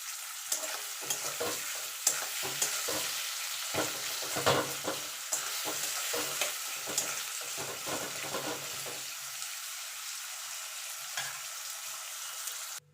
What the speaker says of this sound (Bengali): সামান্য একটুখানি নুন দিয়ে দেবো যাতে পেঁয়াজটা তাড়াতাড়ি ভাজা হয়ে যায়।